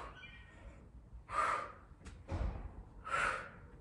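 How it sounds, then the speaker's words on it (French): Two sharp, breathy exhales a couple of seconds apart during a dumbbell core twist workout, close and fairly loud, with a soft thud between them. "Vous l'entendez, j'expire quand je ramène."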